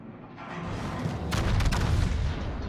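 Booming naval cannon broadsides from a warship in a naval combat video game, a rolling series of heavy, loud low thuds that swell and rumble together.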